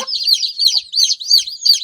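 A brood of day-old chicks, chilled and shivering with their mother hen on a poultry farm, peep in quick rising bursts, loud and close, in a steady repeating rhythm with nothing else behind them.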